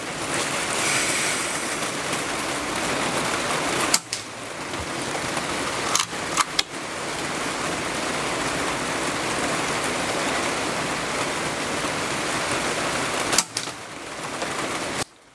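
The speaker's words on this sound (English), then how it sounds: "Sorry for the rain noise." Steady rain falling outdoors at an air rifle shooting session, a continuous hissing wash at moderate level with a few sharp clicks and knocks breaking through.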